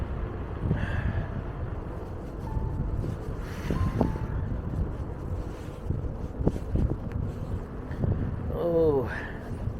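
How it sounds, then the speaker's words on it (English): Wind buffets the microphone in a steady low rumble while riding an Inmotion V-series electric unicycle outdoors, with brief mechanical clicks and a whining tone near the end. "The wind is killer though."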